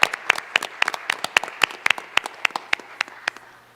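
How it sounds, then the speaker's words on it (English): A small group at a school board meeting claps for a few seconds for a scout troop, the individual claps distinct and fairly sparse, moderately close, with no talking. "let's give these scouts from Troop 32 a round of applause for their service"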